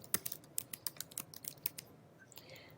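Keys clack on a computer keyboard in a quick burst of about a dozen close, crisp strokes, then a brief pause and a couple of softer taps; no voices.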